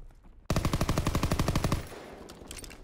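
A rapid burst of video-game gunfire from a burst-fire weapon rattles out sharply for over a second, then fades into quieter distant shots and game ambience.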